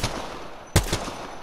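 Gunfire in Apex Legends: a loud, close shot cracks out after a brief sharp report, followed by a second, quieter shot a moment later over faint background game noise.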